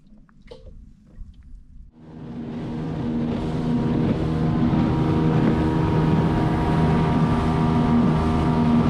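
Fishing boat motor out on the ocean, starting up after a quiet moment and settling into a steady loud drone with a tonal hum, mixed with wind buffeting the microphone.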